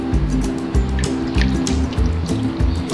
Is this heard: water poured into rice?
yes